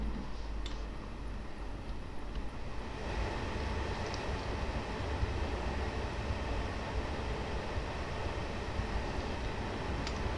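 Freight train rumbles along in Train Simulator 2019 on the Leipzig–Seddin line, a steady low rolling drone with faint rail clicks and occasional squeaks, heard alone at moderate level throughout.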